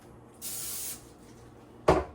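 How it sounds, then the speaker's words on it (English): Two short hisses from a can of non-stick cooking spray coating a bowl, a half-second spray followed by a brief pause and then a quicker, sharper burst, close by. "give it a light coating of a non-stick spray."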